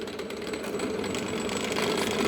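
A single phase AC motor on an AC voltage regulator turns at about 550 RPM. It gives a steady, moderately loud mechanical hum with a faint rhythmic flutter and no speech.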